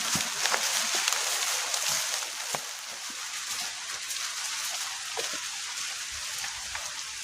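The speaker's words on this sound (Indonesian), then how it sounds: "Oke, sekarang masih gerimis teman-teman. Tuh, masih terdengar gerimis-gerimisnya." Light drizzle patters steadily on a campsite in the forest, a soft continuous hiss of fine raindrops with occasional slightly louder drops landing nearby, no voices present.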